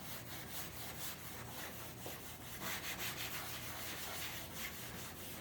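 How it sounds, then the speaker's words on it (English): Clear wax is buffed onto a painted table by hand, giving a continuous soft rubbing and swishing with a steady back-and-forth rhythm, close and fairly quiet. "just keep buffing out in between coats of wax."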